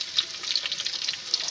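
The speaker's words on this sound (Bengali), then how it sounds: "পেঁয়াজটা এইভাবে আমি ভালো করে ভেজে নেব।" Onions fry in a pan for a vegetarian banana-flower dish, a soft, steady sizzle with light crackles and a few stirring scrapes close by.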